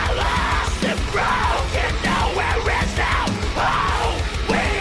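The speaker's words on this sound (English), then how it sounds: "we went and laid down all the high screaming and stuff like that" High-pitched screamed vocals recorded for a heavy song, a sustained run of harsh yelled phrases in repeated bursts, loud and close, filling the whole clip.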